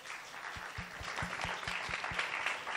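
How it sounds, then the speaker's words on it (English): An audience at an open music audition applauds the day's winner with brisk, fairly faint clapping that carries a quick rhythmic pulse throughout. "can we clap for him, please?"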